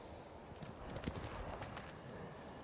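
In Ghost of Tsushima, a horse's hooves clip-clop at a steady trotting rhythm, faint and somewhat distant, with a few sharper strikes standing out midway.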